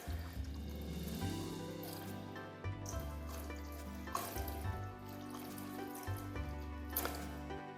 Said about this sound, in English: And we'll add the rest of that 2 cups or so of water.